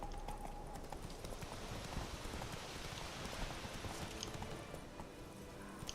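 Hooves of Roach, the horse in The Witcher video game, clip-clopping in a steady continuous rhythm at moderate loudness, with a faint rain-like hiss in the background and no talking.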